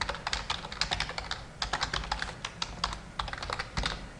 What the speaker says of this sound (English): wherever the learner makes a mistake, I can type it here.